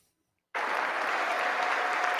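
A standing audience breaks into sudden loud applause after near silence, a dense, steady wash of many hands clapping that holds to the end.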